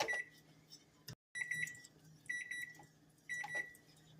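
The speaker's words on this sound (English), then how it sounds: "our 1 minute timer went off" A kitchen timer beeps in repeated bursts of high electronic tones, a few pulses at a time, near and clear over a quiet room while chocolate pudding made from leftover buttermilk cooks.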